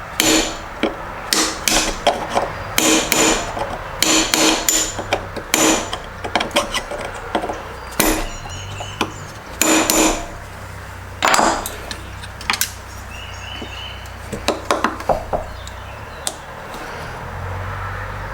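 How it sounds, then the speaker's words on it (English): A tiny hammer strikes a punch on a part of a 1996 Honda 4X4 ATV in a long series of sharp, close metallic taps, some in quick bursts and others spaced apart, with no talking. "Alright, let's use a punch."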